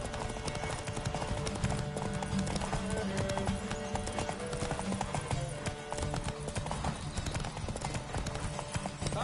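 Hooves pound in a fast, continuous gallop as a horse races along in The Witcher 3, near and steady throughout, set against a busy layer of in-game ambience.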